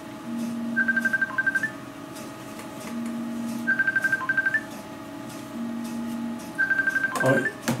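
An electronic telephone rings three times in a steady, evenly spaced pattern of warbling tones, heard indoors against a quiet background hum.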